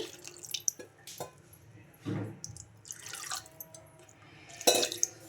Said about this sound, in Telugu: ఇంకా వాటర్ అయితే వేసుకోవాలి